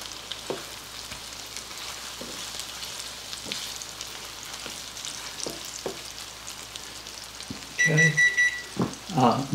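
Butter sizzles and crackles softly in a skillet, a steady faint frying hiss with small pops, growing busier near the end as a few electronic beeps sound nearby.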